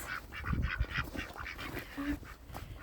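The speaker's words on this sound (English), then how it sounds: "Time to let the ducks out." Ducks quack in quick, overlapping bursts close by outdoors in snow, a busy cluster of nasal calls with a faint honk mixed in.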